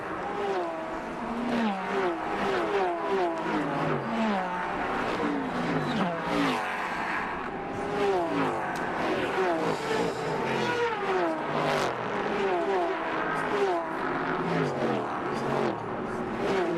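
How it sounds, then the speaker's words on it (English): Race cars at the 2008 Rolex 24 at Daytona accelerate hard past the pit exit one after another, engines rising and shifting through gears in a continuous loud roar, with commentators' voices faintly underneath. "Cars launching past the pit out"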